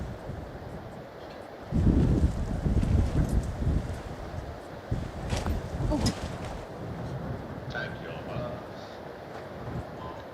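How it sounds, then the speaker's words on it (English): Strong outdoor wind gusts buffet the microphone in loud, irregular low rumbles at a swimming championship, surging and fading over several seconds, with voices talking underneath. "And that would be another one of our 60-kilometre-an-hour gusts of wind."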